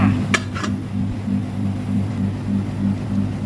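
A lid is set onto a pot of boiling Isan-style fresh bamboo shoot curry. Two quick metallic clinks sound near the start, followed by a steady low bubbling and burner hum.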